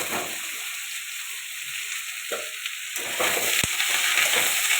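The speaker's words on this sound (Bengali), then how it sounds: "এদিকে আলুটা ভেজে নেব একটু।" Potatoes frying in a pan for an egg curry give a soft, steady sizzle that swells a little louder toward the end, with a single sharp clink partway through and no voices.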